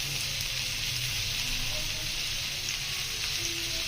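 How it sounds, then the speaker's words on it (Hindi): Ginger garlic paste frying in a pan, a steady close sizzle and crackle holding evenly throughout without pause, with faint background voice murmuring. "अब इसके अंदर डालेंगे हाफ चम्मच लहसुन अदरक का पेस्ट। हल्का से इसे भी फ्राई करेंगे।"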